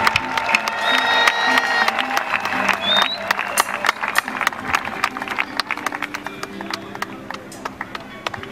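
A church congregation at a funeral service cheers and applauds loudly, with dense rapid clapping, shouts and high ululating cries that slowly thin out over several seconds.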